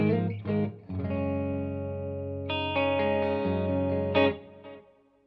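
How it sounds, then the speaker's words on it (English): Distorted electric guitar chords ring out through two amps with delay and reverb, the repeats and reverb smearing the sustained notes into a wide, washy tail. "So amplifiers 1 and 2 that are going to get the delay and reverb sound like this"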